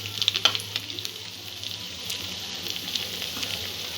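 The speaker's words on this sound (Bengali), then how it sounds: "এইভাবে 3-4টে করে বড়া গোল্ডেন ব্রাউন করে ভেজে নেব।" Chhana (cottage cheese) fritters deep-frying in hot oil, a continuous soft sizzle with a few sharper crackles and pops near the start, close and steady with no talk.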